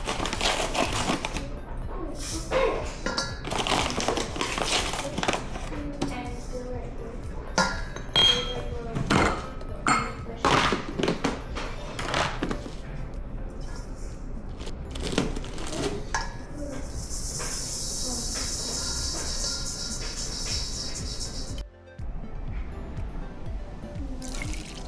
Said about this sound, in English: I'm gonna go ahead and thoroughly whisk those all together until it's nice and smooth